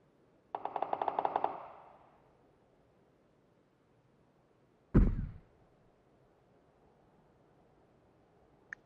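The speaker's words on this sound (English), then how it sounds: "Well, they're shooting each other." In a PUBG match, a short burst of rapid automatic gunfire sounds at a distance, followed later by a single heavy, booming shot, with quiet stretches between.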